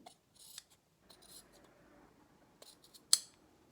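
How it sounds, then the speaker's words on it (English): Scissors snip through bandanna fabric to trim the point off a mask piece, a few quiet crisp cuts in a small indoor space, ending in one sharp louder snip. "I'm just gonna snip off the tiniest bit of that point just so that I don't end up sewing it in a point."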